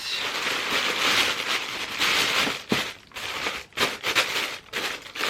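Tissue paper is crinkled and rustled close up during gift wrapping, loud bursts of papery crackling with brief pauses and sharp crunches near the end, no talking.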